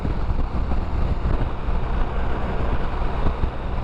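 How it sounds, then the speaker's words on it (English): Steady wind rush and broadband engine-and-road roar from a 2020 BMW R 1250 GS motorcycle cruising down the freeway, loud and continuous with no talking. "this would be what it would be like riding down the freeway"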